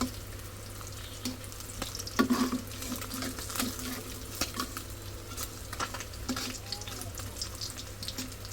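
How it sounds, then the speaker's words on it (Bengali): Food fries crisp in a pan with a soft, continuous sizzle and occasional stirring clinks, heard at a fairly low level. "তাদের জন্য একটু কড়া করেই ভেজে দিতেছি"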